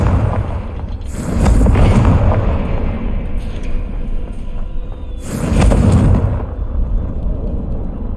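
A Confringo fire spell explodes twice in Hogwarts Legacy, each blast a loud broadband boom with a rumbling tail, about four seconds apart over steady ambient game sound.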